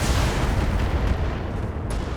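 Heavy mech weapons firing at a Centurion in BattleTech, a dense rumbling barrage of booms and bursts that stays loud and continuous throughout, with no talk.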